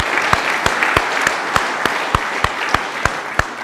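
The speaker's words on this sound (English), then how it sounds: "Give her a big round of applause." A crowd at a National Party political event applauds steadily, a dense wash of clapping with a few sharp, louder claps standing out at regular intervals.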